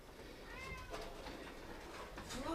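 A cat meows a few times, faint and somewhat distant, over a low background hum, with short rising calls near the middle and the end.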